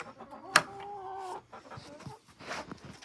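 Chickens cluck in a walk-in coop built from free pallets, with one sharp squawk near the start and then steady, close murmuring clucks and soft rustling.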